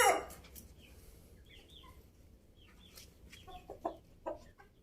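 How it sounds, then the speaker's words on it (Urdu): Ayam Cemani rooster and hens in a cage give scattered clucks and short calls, one loud burst at the start, then softer intermittent clucking at moderate distance. "دیکھیے اس کیج کے اندر یہ موجود مرغا اور یہ اس کی ساتھ کھڑی ہوئی مرغیاں"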